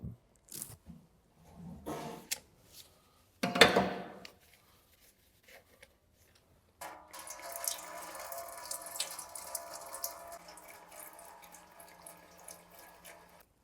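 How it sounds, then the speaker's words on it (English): Transmission oil drains from the pan of an Audi S-Tronic seven-speed automatic gearbox, a steady trickling pour setting in after a few scattered clanks and taps and running on without pause, close by, with no talking. "While the oil is draining from the oil pan"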